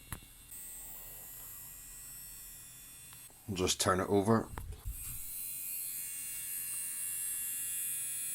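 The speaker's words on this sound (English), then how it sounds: "one of the giveaways for this being a buzzing sound coming from the machine" Buzzing little motor of a Tascam 244 Portastudio cassette recorder with a worn transport, running flat out as a steady mains-like hum throughout, with a brief burst of close speech and handling in the middle.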